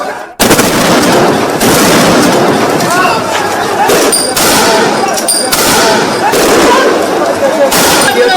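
Loud, chaotic outdoor scene outside the Indian embassy in Bangladesh, with repeated sharp gunshot bangs over constant crowd noise and shouting voices.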